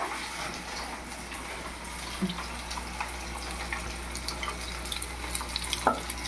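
Ginger, garlic and green chillies frying in a pan for a Rayalaseema-style pulusu rice, a steady, soft sizzle with faint crackles and a couple of small clinks, no voice over it.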